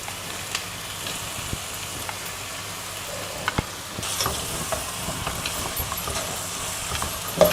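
Spinach leaves for spinach pulao sautéing in a hot pan, with a steady soft sizzle, occasional clicks and stirring knocks, and the frying growing louder partway through.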